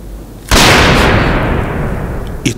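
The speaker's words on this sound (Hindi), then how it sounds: "ये तो गोली की आवाज है" A single loud, close gunshot cracks sharply and leaves a long, fading rumbling echo, with no talking.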